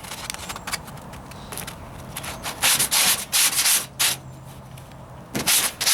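A 1998 Ford Ranger's driver's side wheel arch filler is sanded with 40 grit Hercules sandpaper on a block. Close, gritty rasping strokes come in repeated bursts, louder toward the end, with no talk.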